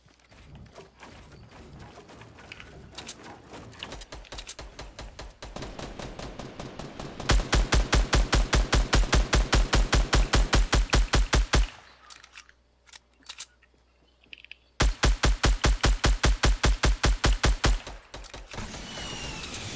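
Long automatic bursts of gunfire, loud and rapid, with a first sustained stream, a short lull of scattered clicks, then a second heavy burst.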